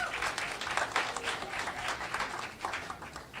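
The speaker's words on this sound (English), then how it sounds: "So give a round of applause for Venus." An open mic night audience at a music club applauds a poetry performer, a brief burst of dense, steady clapping from a small crowd filling the room, with a few voices mixed in.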